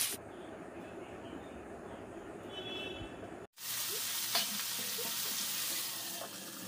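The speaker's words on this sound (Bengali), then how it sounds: "মাছটাকে ভাজা হতে দিলাম" A fish head frying in oil for a traditional Bengali muri ghonto crackles and sizzles steadily, the frying noise continuing after a brief cut partway through, with no voices.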